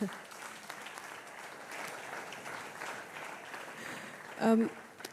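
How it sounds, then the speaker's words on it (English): An audience at a Kingdom Summit plenary session applauds, a moderate, steady spread of clapping that carries on for several seconds, with a brief louder tonal burst near the end. "Please, a round of applause for her."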